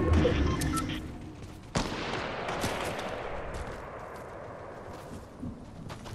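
Gunfire rings out in a shooter video game: a dense burst of shots at the start, then a sharp single crack followed by a long fading echo and a few fainter scattered shots.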